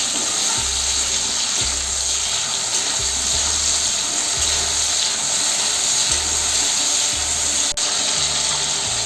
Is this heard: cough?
no